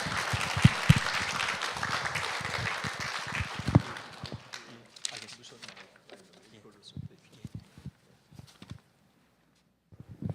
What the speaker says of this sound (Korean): 우리 목사님 나오실 때 박수로 맞아요.